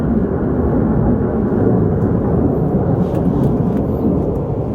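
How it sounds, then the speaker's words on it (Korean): Loud, steady airplane roar near Cheongju Airport, a dense broadband rumble that fills the scene without a break and with no voices over it. "지금 여기 그 청주공항 주변이라서 비행기 소리가 엄청 크네."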